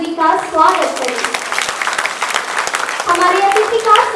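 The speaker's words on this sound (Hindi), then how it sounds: "आइए हम सब मिलकर जोरदार तालियों के साथ श्री शहंशाह आलम जी का स्वागत करें" Audience applause welcoming a guest at a Hindi Diwas ceremony, a brisk patter of many hands under voices talking, with sung or spoken tones at the start and end.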